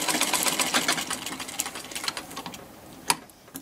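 Treadle sewing machine, started by hand on the flywheel, stitches with a fast, steady mechanical clatter that slows and thins toward the end and finishes with a sharp knock.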